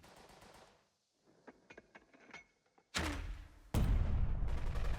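Mortar fire in the squad tactics video game Burden of Command: a few faint clicks and thuds lead into two loud, sustained blasts of explosive rumble that fill the end of the clip.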